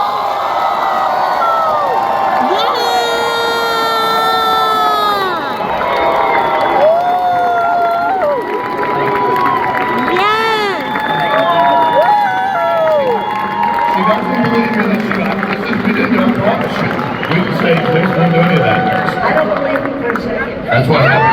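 A convention audience cheers loudly for keynote speaker Barbara Corcoran, with sustained whoops, shouts and screams from a large crowd rising and falling across about twenty seconds, thick with overlapping voices.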